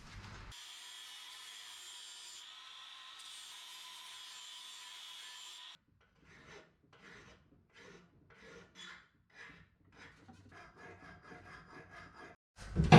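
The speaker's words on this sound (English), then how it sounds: "One more little pass with the old flat disc, and we should be good to go" Flap disc grinding steel on a custom licence plate surround bracket for a 1951 Chevy Fleetline lead sled, a steady loud abrasive rasp for about five seconds, followed by a series of short, quieter scraping passes.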